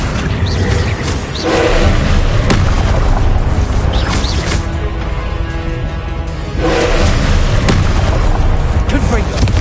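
Confringo fire-blast spells explode in Hogwarts Legacy on PS5: loud, close booms with a heavy low rumble, several bursts over the length, with a lull in the middle and voices mixed into the dense game audio.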